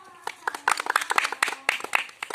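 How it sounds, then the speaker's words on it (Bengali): A gathered crowd claps together in a quick, uneven burst of sharp hand strikes, close and fairly loud, with voices mixed in. "তো স্টার্ট, একটা হাততালি"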